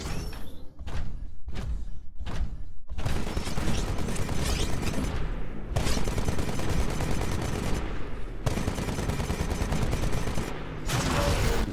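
Titanfall video game combat as a Titan's Vortex Shield refires absorbed bullets: dense bursts of rapid loud gunfire and thumps, broken by short gaps, up close throughout.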